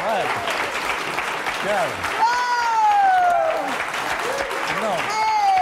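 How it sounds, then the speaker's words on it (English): A studio audience claps in a steady, dense wash of applause, loud and close, while a host talks and whoops over it at a cooking show taping. "a nice round of applause for your stars of At Home in the Rangers, Barbara Venezia and John Crean"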